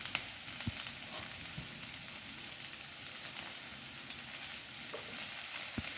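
Carrot, cabbage and bell pepper fry with onion and garlic for Hakka noodles, giving a constant hiss of sizzling oil broken by a few sharp utensil clicks.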